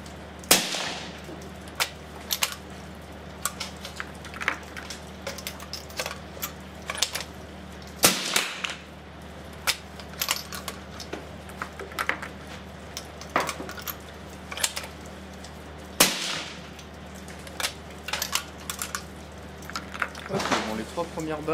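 A rifle fitted with a Sightmark Presidio 3-18x50 scope fires three loud, sharp shots spaced several seconds apart at a range, with quieter clicks and handling noises between the reports and people talking at times.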